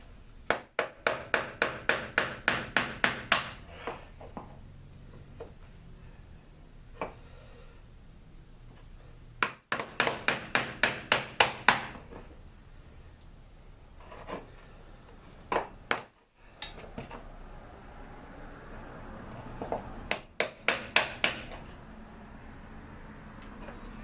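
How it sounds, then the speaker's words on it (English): A screwdriver used as a makeshift punch is struck with a hammer during Jet Star 3 engine work, giving several bursts of rapid, sharp metallic taps in quick runs with pauses between, close and fairly loud. "Don't tell my shop teacher I'm using a screwdriver for a punch."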